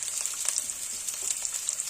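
Garlic and sliced onion frying in oil for homemade veg chowmein, a steady bright sizzle close up with faint stirring scrapes underneath, continuous and unbroken.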